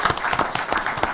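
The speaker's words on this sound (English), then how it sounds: "please give her a round of applause." A crowd at a county commission meeting claps steadily in applause, a dense patter of many hands at moderate loudness with no voices over it.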